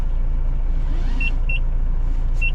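An overloaded transport truck's engine runs with a steady, loud low rumble and constant drone, a few faint high beeps cutting in over it, no talking.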